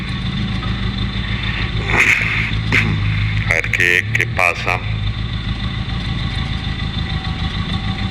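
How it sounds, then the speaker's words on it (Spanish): A heavy motorcycle loaded with about 40 kg of gear idles steadily throughout after restarting on a stony road, rumbling loudly, with a brief burst of speech partway through. "Volver a arrancar a ver qué"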